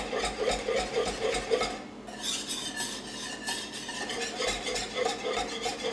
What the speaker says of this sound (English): I use this miniature whisk, because it really helps stir it really well